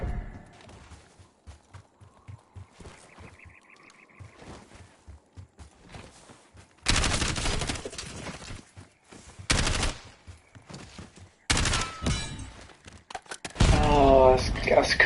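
Gunfire in a shooter video game: after quiet footsteps, long loud bursts of rapid automatic fire break out in several salvos, close and harsh.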